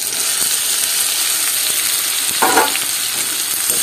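Taro stolons frying with spice paste and tamarind in a pan, giving a steady loud sizzle with a brief scraping stir partway through, close up and without talk.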